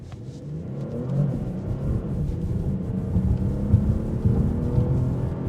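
A 2026 Porsche Panamera accelerates with a steady low rumbling engine note and road whir heard from inside the cabin, rising slightly in intensity, no talking.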